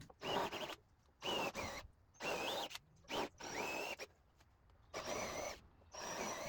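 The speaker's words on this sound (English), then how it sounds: "I took a countersink bit and widened the top of every single hole to be wide enough to where it would finally accept that Forstner bit." A countersink bit widens the tops of drilled holes in wood, giving repeated short bursts of whirring power-tool noise separated by brief pauses, fairly close and alone.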